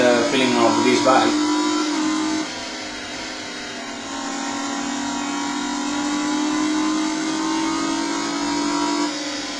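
Motorbike engine in the racing video game Riding Spirits 2, a loud, steady droning tone that climbs in pitch, drops sharply a couple of seconds in, then holds and swells again as the throttle is reapplied.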